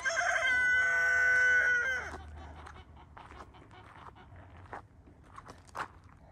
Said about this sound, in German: Jetzt kräht sie da.